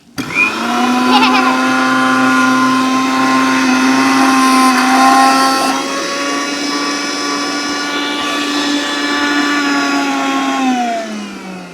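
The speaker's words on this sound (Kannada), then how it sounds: "750 ವ್ಯಾಟ್ಸಿದ್ದು ಮಿಕ್ಸಿ" A 750-watt mixer grinder running off a Tata Harrier EV's vehicle-to-load outlet whirs with a loud, steady motor whine for over ten seconds, dipping slightly in pitch partway through and winding down at the end.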